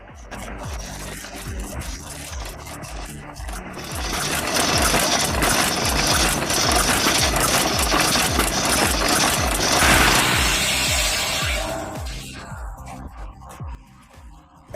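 A firewood processing machine driven by a modest engine runs steadily. The loud mechanical drone is full of rhythmic clanking and rattling, swells into a harsh grinding roar through the middle, then eases back down near the end.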